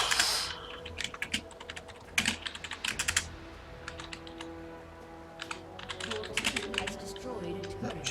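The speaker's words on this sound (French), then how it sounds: "J'écris vraiment comme un boulet vu que je suis pas habitué au clavier." Fast, uneven typing on a computer keyboard, with clusters of sharp key clicks broken by short pauses, close up and clear over a faint background hum.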